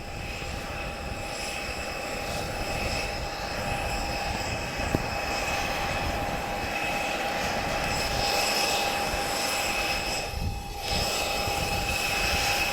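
A famous World War II aircraft lands during an airshow at the Portugal Air Summit, its engine drone steady and fairly loud with a sustained tonal hum throughout.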